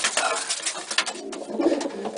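Racing pigeons coo softly in their loft, low throaty calls half-buried under a dense wash of rustling noise throughout.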